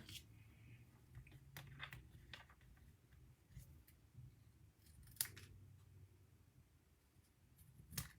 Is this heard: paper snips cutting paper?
yes